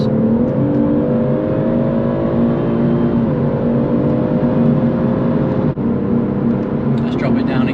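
A BMW M140i engine drones steadily from inside the car under acceleration on the road, its tone holding even with a brief dip partway through and a short cut near the end.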